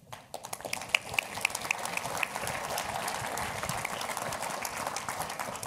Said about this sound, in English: Armine applauded louder than all of you did for the Minister of Finance